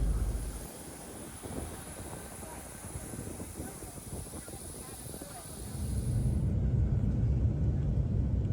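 Steady rumbling drone of a charter airplane flying from Buenos Aires over Tierra del Fuego toward Ushuaia, with the cabin noise continuous throughout and swelling louder near the end.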